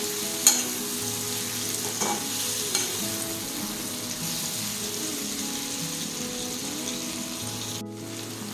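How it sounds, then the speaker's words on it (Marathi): Coriander sautéing in a pan for raw tomato chutney gives a steady soft sizzle, with a few light clicks of a spoon stirring near the start. "आणि मी टाकते कोथिंबीर. हे छान परतून घेऊया."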